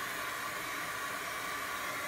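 Hair dryer blowing a steady, loud, even hiss of air to dry alcohol ink, continuous and uninterrupted for the whole stretch with no voices.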